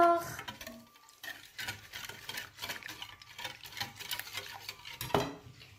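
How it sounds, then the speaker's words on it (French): A spoon stirs a milk mixture in a bowl or pot, with a steady run of soft scraping and clinking strokes at close range and one sharper knock near the end. "Et on mélange encore."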